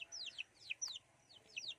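Bantam decoy chickens, mixed with wild junglefowl blood, give a few soft, faint clucking and chirping calls outdoors, several short bursts in quick succession with no talking.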